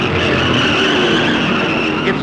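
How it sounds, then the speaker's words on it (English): A race car at the 1962 NASCAR Southern 500 at Darlington, Johnny Allen's Pontiac number 46, skids toward the wall with a loud, continuous roar of engine and squealing tires close by. "A car is into the wall!"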